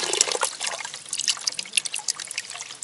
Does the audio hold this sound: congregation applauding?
no